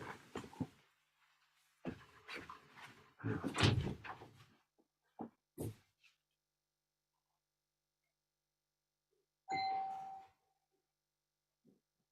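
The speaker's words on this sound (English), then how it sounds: "I have to open the door." A door being opened mid-talk in a room, heard as a few soft knocks and handling sounds followed by a short bright chime-like clang near the end, with long quiet gaps between.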